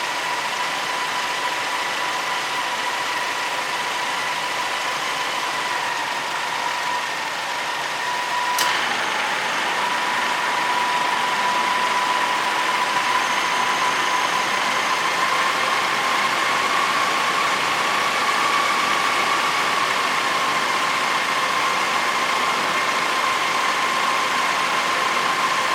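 A truck engine idles steadily and close with the headlights switched on, a constant hum with a faint whine whose pitch dips and shifts once partway through, with no talking.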